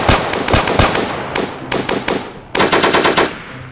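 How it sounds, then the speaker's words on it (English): Rapid bursts of automatic gunfire in a Roblox hood-style shooter game, loud and close, with several separate volleys of quick repeated shots and short pauses between them. "Shots fired."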